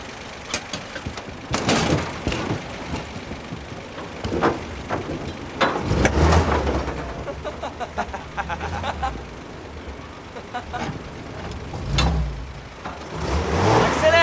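A car engine rumbles and revs up, accelerating in surges with low-end roar building mid-way and again near the end, amid other scattered noises and clatter.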